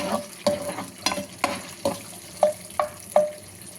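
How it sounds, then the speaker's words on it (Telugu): Green chillies fry in a pan with a soft sizzle, broken up by a regular run of stirring clicks and taps against the pan, close by. "పచ్చిమిరకలు కాడ బాగా ఫ్రై అవనిద్దాం."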